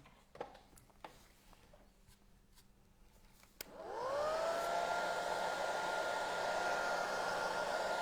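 Heat tool switched on partway through to dry metallic stencil paint, a steady loud blowing whir with a whining tone that runs on continuously after faint tapping and handling sounds.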